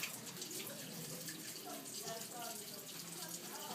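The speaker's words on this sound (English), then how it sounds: "We're going to rinse out the cup." Tap water running steadily into a sink to rinse out a denture cup, a faint continuous splashing hiss with no talking.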